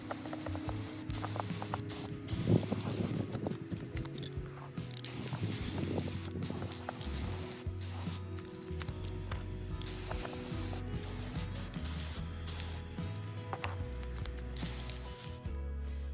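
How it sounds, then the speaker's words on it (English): Bursts of Rust-Oleum flat white primer spray hiss close by, mixed with mechanical clicking and rattling of the can, continuing steadily without voices. "I'm just using spray-on Rust-Oleum flat white primer"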